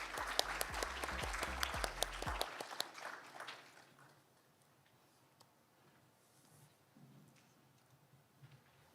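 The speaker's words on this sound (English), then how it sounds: "Please welcome him with a big round of applause." An audience applauds a keynote speaker at a Korea-EU women's science and technology forum, a burst of many clapping hands that dies away after a couple of seconds, followed by quiet room tone with faint shuffling.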